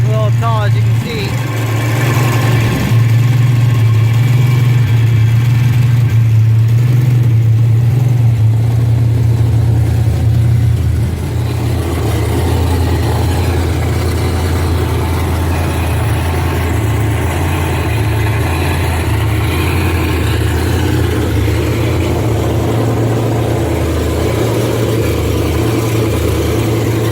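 A Ford Mustang 5.0 with an On3 Performance turbo kit idles cold with a deep, steady rumble, lifting briefly with a couple of light revs before settling back to a low idle.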